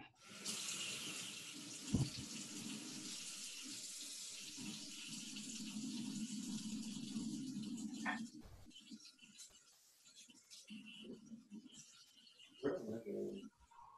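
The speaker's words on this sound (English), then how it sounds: "I have the water running." Warm water runs from a kitchen tap while bagel dough is being made, a steady close hiss for about eight seconds before it stops; a few clinks and faint bird coos follow.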